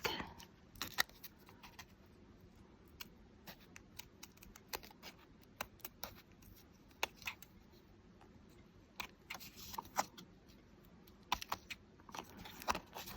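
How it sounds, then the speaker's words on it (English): Tiny scissors snipping a thin ribbon at the very edge of a small craft tag; faint, close, scattered little clicks and snips in a quiet room with no talking. "I'm going to take a little teeny scissor here and see if I can cut it off right to the edge of this tag"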